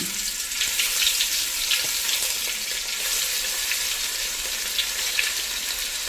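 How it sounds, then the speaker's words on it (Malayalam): Chicken heating in a pan with onion on the stove, a steady close hiss of frying that keeps an even level throughout with faint scrapes, and no talking. "നമുക്ക് ചിക്കൻ ഇതിൽ ഒന്നിട്ട് ചൂടാക്കിയെടുക്കാം."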